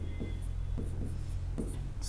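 Writing Hindi words on a board or notebook during a vocabulary lesson, a few short scratchy strokes spaced apart over a faint hum, close and fairly quiet.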